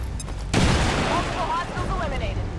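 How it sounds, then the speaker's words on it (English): A grenade detonates in the XCOM 2 video game, a sudden loud boom that breaks in after a half-second of quieter sound and then rolls into a sustained rumble of gunfire and battle noise, with voices calling out over it. "Grenade!"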